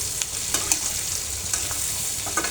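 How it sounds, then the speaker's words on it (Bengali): Garlic, onion and dried chili frying in a pan for jackfruit seed bharta, a steady close sizzle broken by a few sharp stirring clicks. "রসুন, পেঁয়াজ, শুকনো মরিচ ভাজা হয়ে গেছে"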